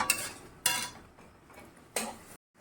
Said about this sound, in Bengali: এবার এই মশলাটাই আমি একটু কষবো, মিডিয়াম ফ্লেমেই কষবো